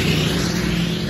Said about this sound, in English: wow, that is a loud truck.